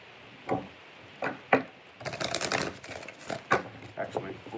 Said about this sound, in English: 2 more shuffles, all right.